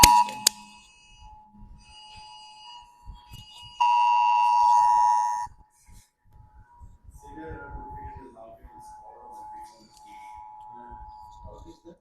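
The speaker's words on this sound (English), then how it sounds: "It's a disaster alert." Phone disaster alert alarm blaring a loud, steady electronic tone for about a second and a half, preceded by a brief beep, while people talk nearby in a room before and after.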